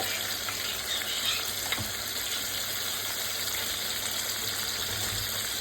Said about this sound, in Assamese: কেঁচা ভাতটো যোৱালৈকে ভাজিব